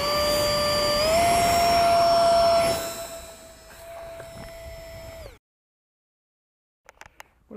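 Electric ducted fan motor on a Lidl foam glider with a larger, better-cooled ESC, whining loudly at about three-quarter throttle with a steady high tone that rises in pitch, then fades and cuts out abruptly, followed by brief faint handling noises.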